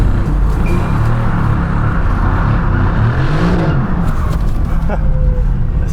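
A GTS supercar accelerates hard with traction control fully off, its engine roaring and rising in pitch through the revs, loud and close with a voice talking over it.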